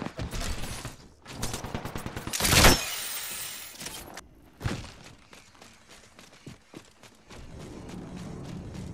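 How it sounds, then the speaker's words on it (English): Apex Legends enemy gunfire erupts in sharp bursts and rapid shots, with a loud crackling blast and glassy shattering mixed into the close, chaotic volley. "The enemies are shooting at me"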